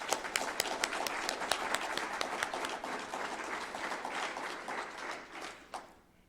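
Audience applause fills a graduation ceremony, a dense, steady wash of many hands clapping that holds evenly before thinning and fading out near the end.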